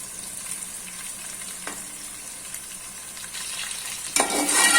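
Garlic-ginger paste and bay leaves frying in a pot, a soft continuous sizzle with occasional stirring scrapes, turning louder and brighter near the end.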